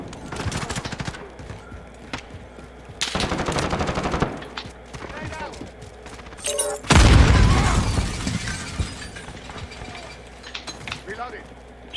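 Automatic and burst gunfire from the video game Call of Duty Modern Warfare, several loud rattling volleys with a heavy boom near the middle, broken by quieter gaps and game effects.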